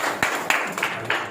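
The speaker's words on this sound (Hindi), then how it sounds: "जोरदार किसान लोगों के लिए तालियां होनी चाहिए" A few sharp, sparse claps from a small audience at a farming product demonstration, spaced out over a second with no sustained applause building up.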